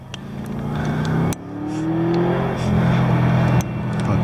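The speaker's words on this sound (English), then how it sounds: "A car coming." A car drives past on a mountain road, its engine rising in pitch and growing louder as it nears, close and steady, with a couple of sharp knocks along the way.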